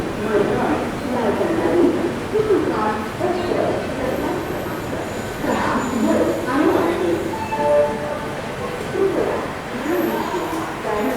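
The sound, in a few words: Goa Sampark Kranti Express train running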